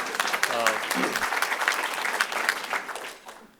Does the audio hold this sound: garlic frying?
no